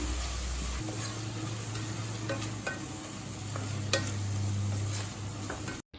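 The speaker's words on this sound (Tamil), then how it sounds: "இப்போ பச்சை வாசனை போக 1 நிமிஷம் வரைக்கும் நல்லா வதக்கிக்கலாம்." Soya chunk biryani masala with chilli powder and biryani spice sautéing in a pan, a steady close sizzle with scattered scrapes and clicks of stirring throughout.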